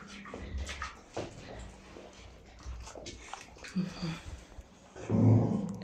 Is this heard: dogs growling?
yes